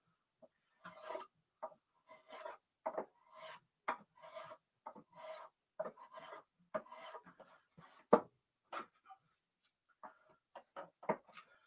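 A knife carves a wooden spoon, shaving off tiny thin curls in short, close scraping strokes that come in an irregular rhythm, crisp and quiet with pauses between cuts.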